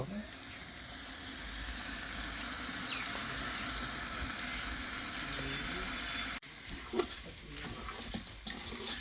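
Mutton cooks in a pot outdoors at a village New Year picnic, giving a low, steady sizzle under broad background noise, broken by a few brief knocks.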